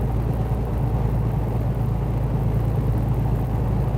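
A truck engine labouring in 12th gear at about 1100 RPM, too high a gear for its speed, gives a steady low rumble and vibrating drone that holds level and close throughout with no talk.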